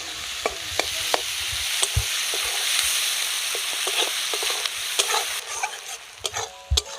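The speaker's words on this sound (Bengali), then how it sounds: "পেঁয়াজটা একদম লাল লাল করে ভেজে নেব।" Three medium chopped onions with a pinch of salt fry in oil, a steady close sizzle with repeated sharp scrapes and knocks of a spoon stirring the pan, no voices.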